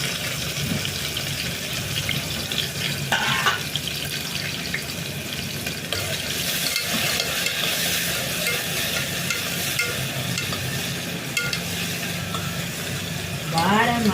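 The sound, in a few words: stone flower spice and onion frying in hot oil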